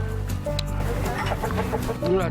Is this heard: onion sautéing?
no